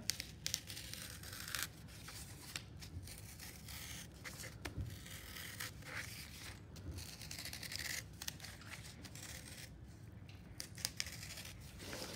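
A knife cuts a guitar shape out of cardboard, heard as close, quiet, repeated slicing and tearing scrapes with short pauses as the cardboard is turned.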